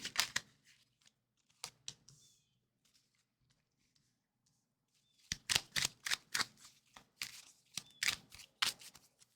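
Tarot cards being shuffled and pulled by hand, with bursts of crisp riffling and flicking in two clusters around a long quiet stretch, close and fairly soft.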